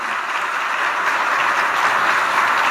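Sustained applause from a church congregation during a Spanish-language sermon, a steady dense patter of many hands clapping at even loudness with no talk over it.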